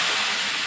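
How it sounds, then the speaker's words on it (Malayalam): Hot water poured into a fish head curry, a brief loud steaming hiss up close. "കുറേശ്ശെ ചൂടുവെള്ളം ഒഴിച്ചു."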